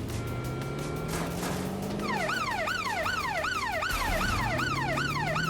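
An ambulance siren in Watch Dogs Legion wails in a fast, repeating up-and-down pattern, loud and close, entering partway through over game traffic and engine drone.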